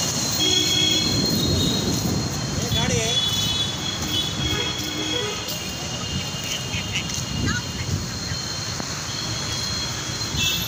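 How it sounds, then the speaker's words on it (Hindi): Railway station ambience at Tirupur, with train wheels rumbling and squealing on rails and clattering carriages, heard close and steady beneath someone talking throughout. "मैं पहुंच चुका हूं अभी तीरपुर रेलवे स्टेशन।"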